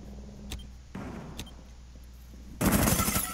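Gunfire in a Rainbow Six Siege team deathmatch on the Bank map: a few isolated sharp shots over a low rumble, then a loud sustained burst of automatic fire near the end.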